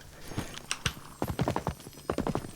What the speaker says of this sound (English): you notice that like the clopping happens on harder surfaces